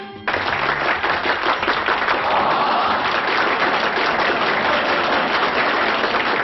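A theatre audience at a drag revue applauds the star Zaza Napoli, a loud, sustained burst of many hands that starts abruptly and carries on steadily.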